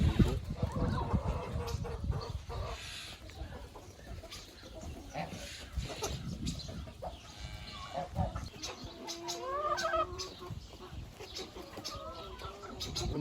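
A farmyard of poultry: chickens cluck and geese honk in scattered calls, with other livestock noise mixed in at moderate distance.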